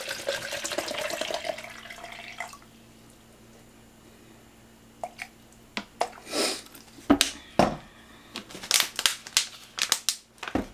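Water runs from a tap for a couple of seconds, filling a container for a protein shake, then stops, followed by scattered clicks, clatters and handling noises nearby.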